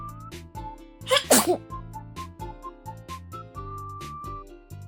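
One brief, forceful sneeze bursts out over a bouncy, steady musical backing track.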